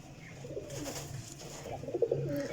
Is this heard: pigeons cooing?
yes